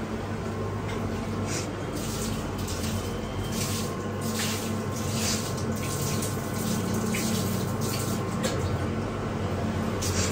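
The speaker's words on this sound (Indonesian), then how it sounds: "Tuh itu lagi dibilas ya." Steady running water rinsing metal parts in a chrome plating setup, a constant broad splashing hiss with faint intermittent knocks throughout.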